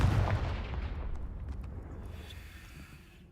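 A Confringo fire spell blast in Hogwarts Legacy, a single loud booming explosion at the start whose broad rumble slowly fades away over a few seconds.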